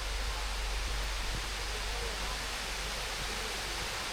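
Sai Yok waterfall in a limestone setting pours as a steady, broadband roar of falling water, continuous and fairly close, with a low rumble underneath.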